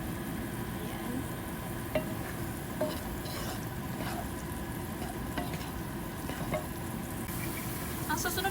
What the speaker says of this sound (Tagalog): Tapos haluin natin siya guys.